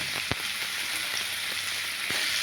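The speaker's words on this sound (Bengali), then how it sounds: "এবার আলুটা দিয়ে ভালো করে ভেজে লাল করে" Potatoes fry in a pan for an aloo karela dish, with a constant close crackling sizzle and a couple of faint clicks from stirring.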